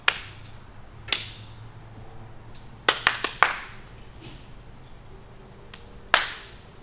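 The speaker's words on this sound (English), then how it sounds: "All right, give me a clap." Sharp hand claps ring out in an otherwise quiet space: one near the start, another a second later, a quick burst of three to four, and a final clap toward the end.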